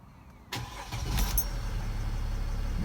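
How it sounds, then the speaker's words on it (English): A Mercedes-built 3.0 V6 diesel engine on a Jeep (W164/300C platform) cranks and catches abruptly after a moment of quiet, then settles into a steady, close idle rumble with no talking. "Start the car."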